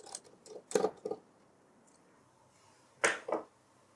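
A small T6 Torx screw is worked loose inside a late 2012 Mac Mini, with a few quiet clicks and scrapes of the driver against the screw, then two sharper ticks after a short pause.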